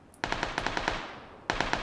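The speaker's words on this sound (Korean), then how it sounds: "총소리 봐." Automatic gunfire in the PUBG battle-royale game: a rapid burst of about eight sharp shots, a short pause, then a second burst of four, loud and close with no talk over it.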